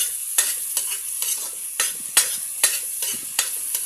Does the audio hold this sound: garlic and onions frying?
yes